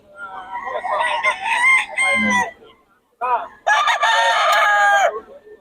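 Roosters crow loudly in two long, harmonic bursts separated by a brief pause, close by and dominating the scene.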